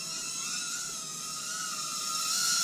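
A Cheerson CX-10SE micro quadcopter hovers indoors, giving a steady high-pitched whine of tiny brushed motors with a thin tonal hum, close and constant for the whole moment, with no talking.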